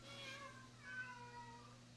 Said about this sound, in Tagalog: Ang ingay ng pusa ko ha.